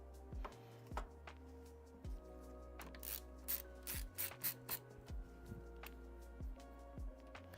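Small screws being driven back into a compact small form factor PC case, with a series of short ratcheting clicks and faint metallic turning sounds repeating at close range in a quiet room.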